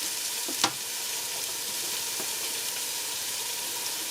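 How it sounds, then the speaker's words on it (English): Ingredients sauteing in a pan for smoked sausage pancit bihon, a steady close broadband sizzle with one sharp clack of a utensil near the start. "this has been sauteing for 3 minutes"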